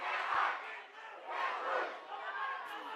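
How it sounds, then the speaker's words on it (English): Basketball crowd with a student section and cheer section roaring during a semifinal game, swelling in waves of loud cheering and shouting. "The force fans and cheer section and student section getting wound up."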